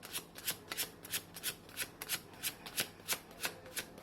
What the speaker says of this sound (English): So I'll just give this a quick shuffle again, and then we'll start with your layout.